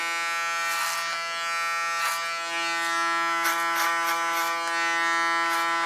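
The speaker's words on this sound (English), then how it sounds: "You can also hear the difference between a Panasonic clipper" A Panasonic electric hair clipper buzzes steadily and close during a haircut, its even hum holding pitch with small shifts in tone as the blades move through hair.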